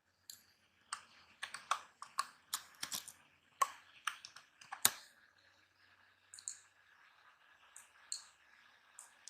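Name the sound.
typing a name on a computer keyboard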